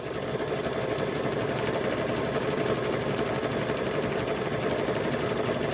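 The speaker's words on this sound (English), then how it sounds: "I'm going to stitch down." A sewing machine runs a blanket stitch on a quilted handbag, giving a steady, close, continuous mechanical whirr and rapid needle chatter with no pauses and no voices.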